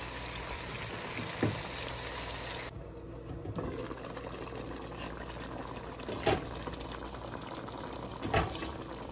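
Chicken karahi with tomatoes and salt cooking over a stove on full flame, giving a steady, loud bubbling sizzle that runs throughout with a few brief spatters.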